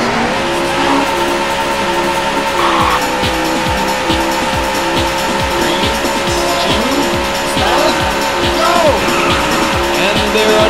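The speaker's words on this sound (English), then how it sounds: "Gentlemen, start your engine." Race car engines in the arcade racing game Daytona USA roar loud and close as several cars pull away, with repeated tire squeals and engine pitch rising and falling through gear changes.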